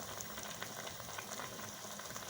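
Colored sweet rice (mutanjan) boiling hard in a pot over a full flame as the water cooks off, a steady close bubbling hiss with no voices.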